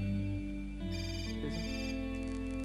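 A telephone rings in the video game Hotline Miami 2, a steady electronic tone layered over the game's sustained synth music, with no talking.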